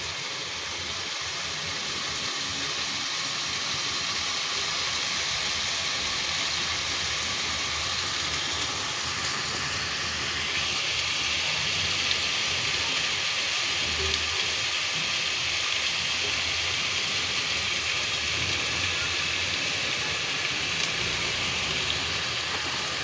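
Turmeric and spices fry in a pan for a bottle gourd dish, giving a steady, dense sizzle that holds evenly from start to finish with no voices.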